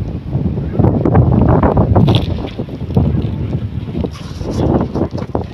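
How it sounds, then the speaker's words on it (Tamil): Strong wind gusts across a rooftop terrace, buffeting the microphone in loud, uneven rushes that swell and ease with brief lulls between gusts. "காற்று கொஞ்சம் ஓவராக அடிக்குது."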